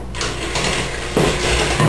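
Electric beater whirring through egg and skim milk added to creamed butter and sugar for a raspberry pecan tea bread batter: a steady close mechanical whine that shifts in tone partway through, with no talking.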